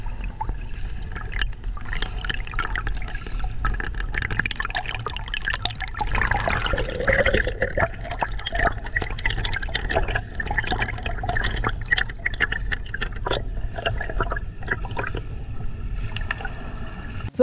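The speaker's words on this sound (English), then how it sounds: "there's a gentleman performing front crawl in the water" A swimmer doing very slow front crawl, with soft, irregular splashes, drips and water sloshing at close range throughout, fairly quiet and with no talking.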